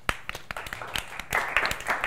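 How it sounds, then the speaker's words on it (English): People clapping at a live Christmas broadcast, a scattering of individual claps that swells into a short burst of applause, close by, with a faint voice underneath. "You're damn right, you're clapping."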